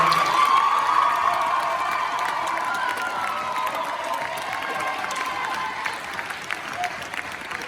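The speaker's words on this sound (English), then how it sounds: "And could we have a round of applause for our 3 soloists?" Audience applause mixed with cheers and whoops greets three soloists at a high school benefit concert, loud at first and gradually easing while scattered voices call out over the clapping.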